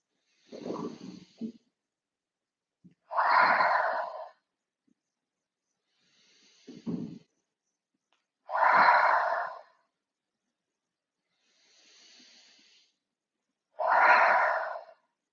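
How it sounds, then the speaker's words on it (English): Slow deep breathing in a yoga session: three rounds of a soft nasal inhale followed by a longer, louder breathy exhale through the mouth, close and evenly paced, with near silence between breaths. "we'll have a deep inhale through our nose and exhale through our mouth"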